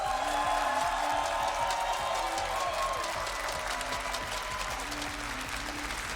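A live arena crowd at a Rainbow Six Siege esports major grand final in Jönköping, Sweden, applauds steadily with scattered cheers, a sustained dense clapping wash under a loud amplified hum.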